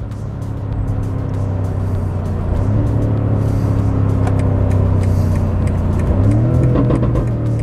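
BMW M5 Competition engine revving on downshifts, a loud close mechanical drone that blips upward in pitch twice as gears drop, under steady road noise with no talk.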